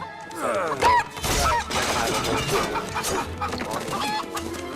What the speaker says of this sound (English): But look, this chicken never leaves the castle.